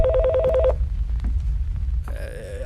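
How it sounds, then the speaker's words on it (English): A telephone rings in a horror video game, a loud warbling electronic ring for under a second, then a quiet room with faint creaks, before a second brighter ringtone cuts in near the end. "I have a phone call!"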